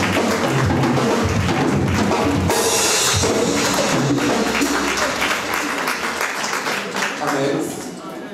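A church congregation applauds and cheers loudly, a dense roar of clapping and shouting that swells sharply partway through and then slowly fades, with voices mixed in.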